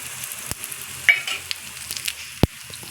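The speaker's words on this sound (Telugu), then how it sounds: "చిటపట అంటున్నాయి చూడండి." Seeds crackling and popping in hot oil for lemon rice, a soft sizzle bed broken by a few sharp, close pops spaced irregularly, with no voices.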